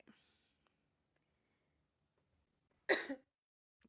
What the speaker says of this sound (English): I apologize for my cough sound